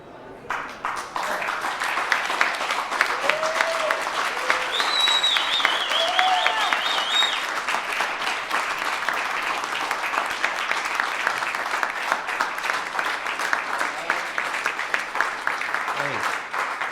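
Sustained applause from an audience fills the whole stretch, dense and steady, with a few faint whistles or calls rising above the clapping.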